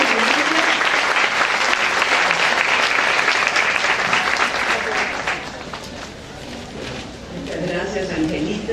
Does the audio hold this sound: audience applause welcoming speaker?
yes